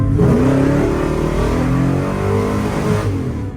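A 1968 Chevrolet Biscayne accelerating in drive with an automatic transmission that won't shift, its engine droning and rising steadily in pitch, loud and close with no speech.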